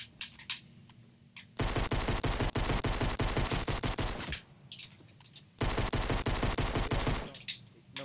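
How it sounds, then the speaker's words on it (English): Rapid automatic gunfire in Fortnite rattles in two long, loud sustained bursts, each a dense string of close shots, separated by quieter pauses with faint distant pops. "I'm shooting."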